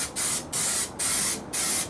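Spray adhesive hisses from a nearly empty can onto a car interior trim board in four bursts of about half a second each, close and loud, with short gaps between them.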